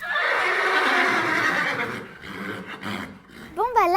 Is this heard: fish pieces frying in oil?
no